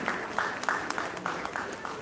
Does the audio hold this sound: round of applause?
yes